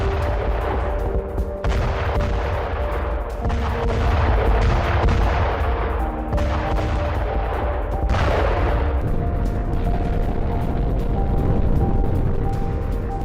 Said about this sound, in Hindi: यूक्रेनी इलाकों में टॉस 1A का विनाशक हमला किया गया